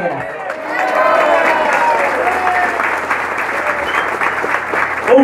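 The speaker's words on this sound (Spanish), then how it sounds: "Un caluroso aplauso a las compañeras y compañeros." A crowd at a political rally applauds warmly and continuously, the clapping mixed with cheering voices and building to a sustained roar.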